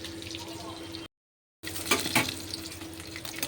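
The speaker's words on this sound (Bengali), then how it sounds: "আমি মাছগুলো ভেজে নিয়েছি, লাল লাল করে ভেজে তুলে নেবো।" Fish fries in a pan, a faint, steady sizzle with a short silent gap before it resumes, joined by a few brief stirring or handling noises.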